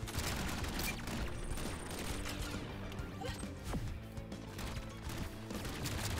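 Dense gunfire in the fast-paced rogue shooter Battle Shapers, rapid shots and impacts crackling continuously at steady loudness with a busy mix of game effects, no voices.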